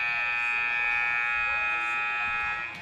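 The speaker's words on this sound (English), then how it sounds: "There's the buzzer" A basketball game clock buzzer sounds at the end of a junior varsity women's high school game, one loud steady electronic drone held for nearly three seconds against faint gym noise.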